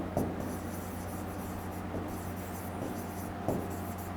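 Chalk or marker writing on a board during an English grammar lesson, faint scratchy strokes at a steady low level with a few slightly stronger taps, no talking.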